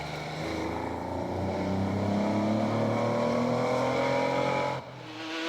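Lancia rally car racing flat out on a closed road in the Targa Newfoundland rally, engine droning loud and steady from inside the car with rising pitch under acceleration, then dropping away abruptly near the end.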